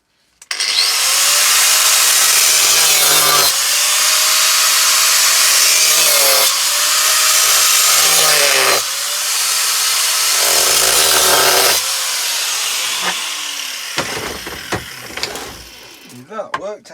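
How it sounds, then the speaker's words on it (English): Angle grinder cutting a slot into a rusty screw, loud and close, with several sustained high-pitched grinding bursts separated by short pauses, then tapering into scattered short scrapes at the end. "get your grinder, put a slot in it, and hopefully you should turn it with a flat head screwdriver"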